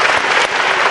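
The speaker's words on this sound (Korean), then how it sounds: "자, 박수 한번 해주세요." Studio audience applause breaking out right after a lap time is announced on a car show track test of a Mini Countryman; steady, dense clapping fills the whole short moment with no talk over it.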